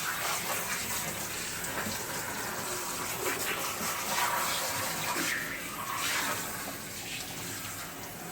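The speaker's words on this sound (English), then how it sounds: "what I'm trying to do here is rinse out all the excess dye and any dye that didn't take to the fabric." Running water rinses excess dye out of ice-dyed fabric, a steady broadband splashing rush that holds a fairly even level throughout, close and continuous with no talk.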